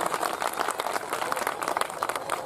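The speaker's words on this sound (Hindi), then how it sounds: "मैं चाहता हूं जोरदार तालियों से आप सभी की तरफ से सम्मान होना चाहिए।" A crowd at a Dhamma Vijay Day gathering in Kaimur, Bihar, applauds the chief guest with steady, dense clapping that holds at an even level throughout the short stretch.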